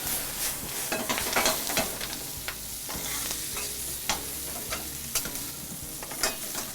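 Onions sauté steadily in a hot pan while a utensil stirs and scrapes, making irregular clicks over the constant frying hiss.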